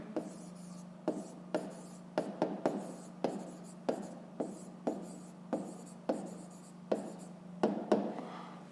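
Pen writing numbers on paper for a fifth-grade maths exercise, in short repeated strokes with a steady rhythm, close and fairly quiet over a constant low hum, with no talking.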